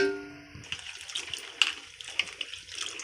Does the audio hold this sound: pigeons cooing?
no